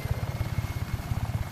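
Helicopter in Just Cause 3, a steady rapid rotor thump pulsing at an even rhythm with a low engine drone underneath, moderately loud and continuous with no voices.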